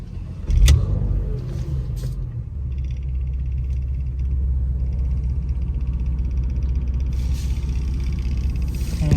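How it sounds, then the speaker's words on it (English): A Porsche Macan with worn engine mounts starting up and idling, a low steady rumble with a starter burst at the beginning, heard from inside the cabin. "Start the car."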